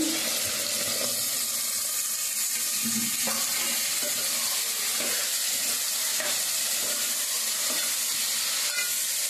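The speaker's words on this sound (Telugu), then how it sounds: "ఇప్పుడు దుంపలు టమాటాలు ఉల్లిపాయలు అయితే వేగుతూ ఉన్నాయండి" Potatoes, tomatoes and onions fry in a pan for a brinjal and potato curry, giving a steady, even sizzle and crackle that runs unbroken from start to finish with no talking.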